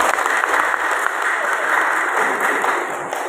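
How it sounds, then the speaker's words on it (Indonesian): Loud, dense applause from an audience at a PGRI teachers' association gathering in Dukupuntang, honoring two teachers; a sustained, even roar of many hands clapping with no break. "Tepuk tangan dulu berdua"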